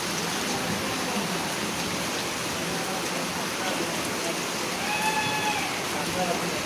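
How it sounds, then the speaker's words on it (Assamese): Heavy night-time rain pouring down outside a flooded home, a constant dense roar of falling water that runs unbroken throughout, with faint tonal sounds surfacing near the end. "ইমান ডবল বৰষুণ ৰাতি"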